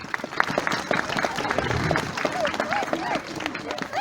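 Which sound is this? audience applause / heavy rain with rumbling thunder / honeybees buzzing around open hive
audience applause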